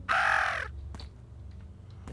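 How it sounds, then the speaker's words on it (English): One loud, harsh crow caw near the start in the horror game Evil Crow, followed by faint clicks and a quiet low background hum. "got spooked by a crow"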